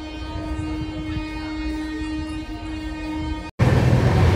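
A steady electric drone hums alongside rumbling rail noise on a platform at Shegaon station beside an air-conditioned train; the sound cuts abruptly to a louder rushing wash.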